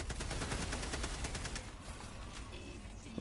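Rapid automatic gunfire from a weapon in the video game Helldivers 2, a loud, dense burst of shots that eases off slightly toward the end, with no talking.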